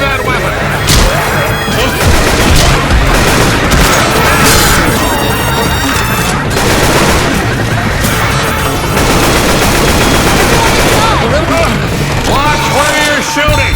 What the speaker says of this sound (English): Watch where you're shooting!